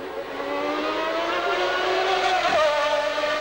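A 1991 Formula One car driven by Gerhard Berger screams past at speed, its high-revving engine whining steadily and rising in pitch, with a brief gear-change dip late in the pass.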